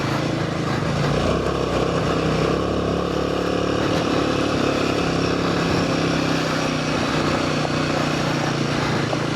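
A Royal Enfield Himalayan 450 motorcycle rides off-road over rough dirt in Whirinaki, New Zealand, its engine droning steadily and loudly with continuous wind and ground rumble throughout.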